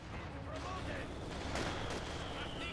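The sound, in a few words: mortar shell hitting, from video game Company of Heroes 2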